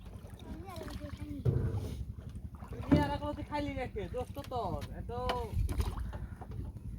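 Boat out on a village river in a rural char area, with low wind-blown rumble and soft water sloshing running steadily throughout while several people talk loudly over it.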